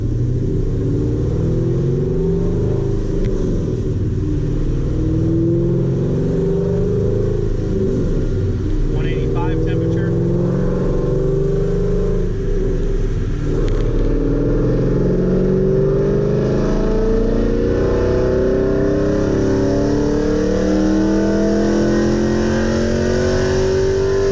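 A car engine held under heavy load on a Dynojet dyno, building in a loud, sustained rising roar through a full pull for more than twenty seconds, close and dominant throughout, with only a brief lull partway.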